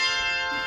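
A handbell choir sustains a brief, bright ringing chord of resonant handbells that hangs evenly for under a second.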